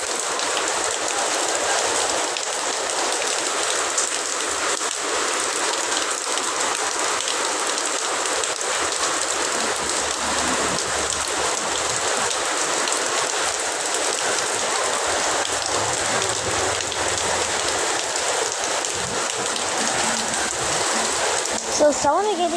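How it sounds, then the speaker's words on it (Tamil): Heavy rain pouring down in Guduvanchery near a petrol bunk, a loud, even hiss of water drumming on surfaces that holds steady throughout, with faint low rumbles beneath. "மழை கொட்டு கைஸ்"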